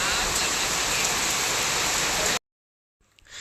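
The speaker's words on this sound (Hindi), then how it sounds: "और बारिश इन दिनों बहुत ज़ोरों से हो रही है।" Heavy monsoon rain pours down in a dense, loud, continuous hiss for over two seconds, then cuts off abruptly to near silence with a faint sound returning at the end.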